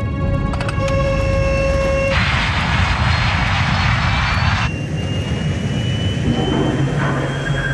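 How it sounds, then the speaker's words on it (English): An airliner low on approach near New York has its jet engines pushed to full throttle, a loud roaring whine that shifts pitch partway through and stays close and continuous. "To save the plane, Captain Caviedes applies full throttle, burning up more of the plane's precious fuel"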